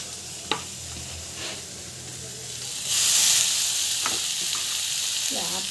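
Tomatoes sauté in a hot pan with a steady sizzle, a few spatula scrapes and a brief louder hiss burst partway through; no talking.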